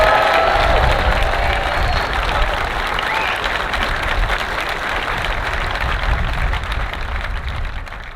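A large crowd at the Open Championship at Royal Liverpool applauds steadily for a golfer introduced on the first tee, with dense clapping that fades slightly toward the end.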